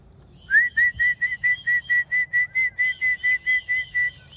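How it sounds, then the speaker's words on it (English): Someone whistles to call racing pigeons back into their loft. The clear, shrill notes come in a steady series of about fifteen short, evenly spaced bursts, close and loud, with no talking. "let's start whistling."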